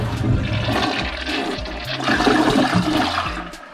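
A hotel bathroom toilet flushes loudly and close by, water rushing and gurgling steadily for several seconds with no talking.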